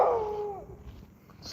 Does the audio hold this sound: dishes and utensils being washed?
no